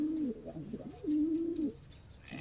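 Pigeons coo in a breeding loft, one bird's low, rolling call repeating in clear bursts close by, with softer chirps and rustling between the phrases.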